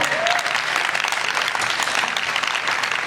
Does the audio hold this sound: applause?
yes